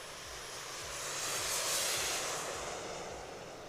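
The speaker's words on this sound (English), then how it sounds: "Now this is where the thrust nozzle at the back of the airplane comes into action." A large 2.8-meter model Lancer jet with thrust vectoring flies a high-alpha pass at an air show. Its turbine roar swells to a peak mid-pass and then gradually fades, with no talk over it.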